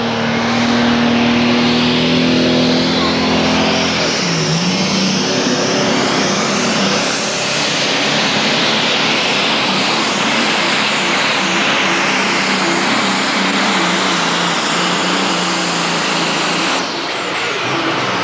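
Tractor pulling engines roar at full throttle during a start at a 1996 Sottrum event, a loud, sustained, dense mechanical blare with shifting pitch that persists throughout without pause.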